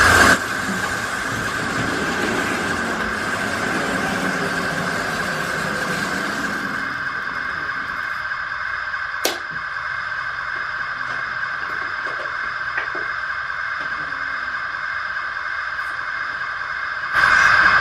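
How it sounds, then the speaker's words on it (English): The Cornish Riviera Express, headed by the locomotive Tregenna Castle, pulling into a station platform, a steady rumbling roar with a constant high whistle-like tone and hiss that drops back to a quieter clank and rumble as it slows. "Tregenna Castle, heading up the Cornish Riviera Express,"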